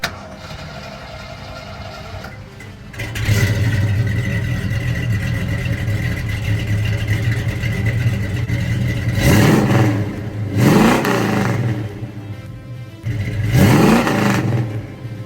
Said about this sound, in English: these exhaust pipes, they really do make this car sound pretty good. Take a listen.